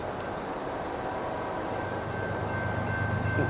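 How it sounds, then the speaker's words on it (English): Steady low rumble of a train rolling along railway tracks near a home in East Palestine, a continuous broadband roar that grows slightly louder toward the end, with a faint high tone running through it. "I swear the trains are louder"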